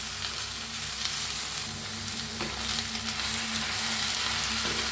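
Cooked drumstick vegetable being stirred in a hot pan, a steady close sizzle with soft scraping of the spoon, continuous and moderately loud with no talk.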